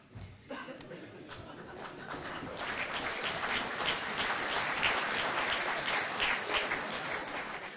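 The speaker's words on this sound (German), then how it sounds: "Applaus" Audience applause at a municipal New Year's reception in Horumersiel, Wangerland, a dense, steady roar of many hands that swells and holds, with a few chuckles in the room.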